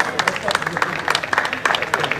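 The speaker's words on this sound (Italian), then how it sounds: "Facciamo un applauso a Italo Marino." Applause breaks out at an outdoor slalom car-race awards ceremony in Luzzi, with dense, uneven clapping from a crowd running steadily throughout.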